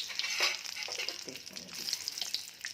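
Bay leaves crackle and sizzle in hot cooking oil, a steady close frying hiss scattered with sharp pops and spits, with no voices.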